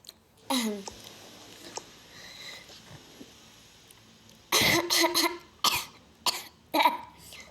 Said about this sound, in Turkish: Neyse öksürdüm biraz.